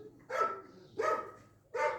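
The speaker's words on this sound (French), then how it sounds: "C'est un chien de garde, donc forcément, il aboie." A guard dog barks three times in loud, evenly spaced single barks, close by with a steady low hum underneath.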